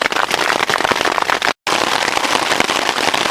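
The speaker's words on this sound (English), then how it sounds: "we got some pretty good sized hail starting to come down" Good-sized hail pounds on a tent in the Sierra, a dense loud crackling roar of countless impacts that runs without letup apart from one brief cut.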